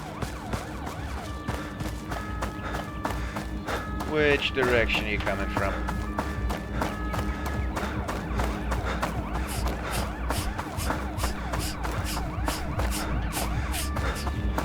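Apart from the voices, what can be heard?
sirens in a video game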